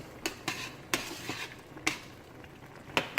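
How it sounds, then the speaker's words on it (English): A spoon stirs carrots into a pot of Cajun chicken and rice in broth, making sharp intermittent scrapes and clinks against the metal pot, spaced about a second apart, close and clear with no talk. "Let me add the carrots in. Stir this."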